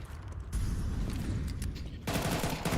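Rapid gunfire crackles during a duel in a Counter-Strike match, with dense bursts of shots over the game's ambient noise; it is loud at first, dips briefly, then returns.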